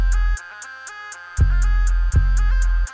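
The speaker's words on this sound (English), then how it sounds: "8-step pattern right here for these hi-hats." A programmed 8-step hi-hat pattern in Ableton Live ticks in an even, steady rhythm over a sustained tone, while heavy bass hits come in partway through, all clean and upfront with no voices.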